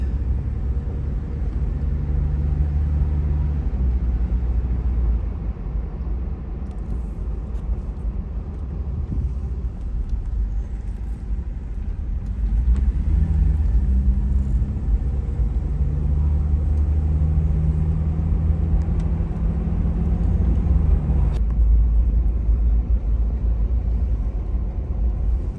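A 1994 Toyota FZJ80 Land Cruiser engine runs steadily while driving, a continuous low rumble with cabin and road noise throughout and a slight rise in level about halfway through, with no talk.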